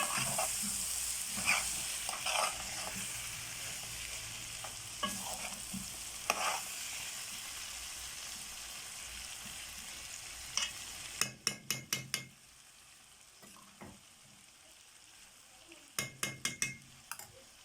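Vegetables being stirred together in a pan, with a soft frying hiss under occasional scrapes, followed by sharp clusters of utensil clicks against the pan, quiet and close, with no talking.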